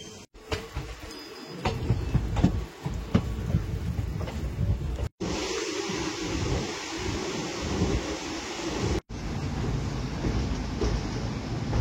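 Kanchenjunga Express passenger train running on the rails after leaving Malda Town, a loud steady rumble and rattle with wind buffeting, heard from inside, interrupted twice by brief cuts.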